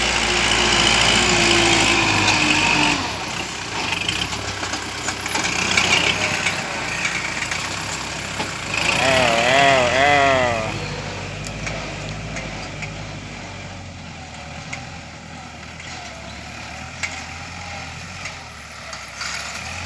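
A Kubota L5018 farm tractor's diesel engine runs steadily at idle, a moderately loud mechanical drone with a brief rising-and-falling whine near the middle, then settling quieter toward the end, with no voices.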